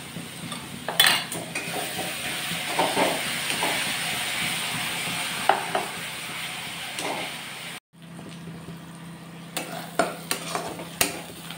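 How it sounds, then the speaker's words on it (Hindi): Masala for a Bengali fish curry frying in a pan, a close steady sizzle with repeated scraping stirs, a sudden brief gap, then quieter sizzling and more stirring clatter. "देखिए मसाला फ्राई हो गया।"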